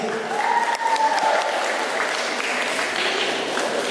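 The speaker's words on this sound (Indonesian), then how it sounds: "kita sambut dengan tepukan yang meriah." Audience applause at the 2019 Putri Pariwisata grand final pageant in Nias, a steady, dense wash of many hands clapping that holds evenly throughout with no break.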